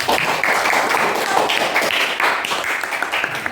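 Hands clapping in a classroom group presentation, a steady mid-level patter of several people applauding together with no voices over it, sustained evenly throughout.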